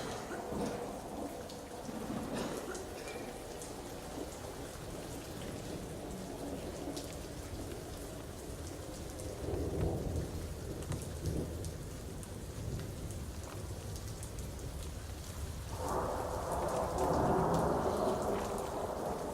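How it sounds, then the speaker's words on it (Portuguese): Steady rain pours down throughout, with low rumbles of thunder rolling in around the middle and a louder swell near the end. "Hoje amanheceu chovendo."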